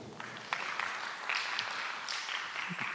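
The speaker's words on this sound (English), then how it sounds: "Perhaps we can also have a round of applause for Dr." Audience at a trauma panel event gives a round of applause for the panel's organizer, a moderate burst of clapping with scattered distinct hand claps, fairly close.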